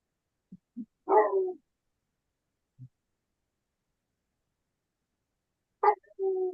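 Dog barking and howling: a few soft low woofs, then a louder yowling bark and a later drawn-out howl, all isolated against silence.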